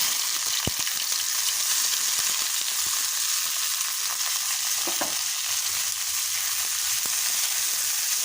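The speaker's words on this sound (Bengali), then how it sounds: "এখন এইগুলো একটু বাদামি করে ভেজে নেব।" Onion, garlic and chili sizzle steadily in hot mustard oil, a dense, even frying hiss close by with occasional soft stirring scrapes and no talking.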